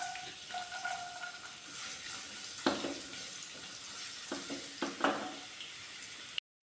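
Ginger and garlic frying in hot oil in a pan for a cauliflower kurma, with a soft steady sizzle and a few louder crackling bursts as pieces are stirred, close and fairly quiet, with no talk.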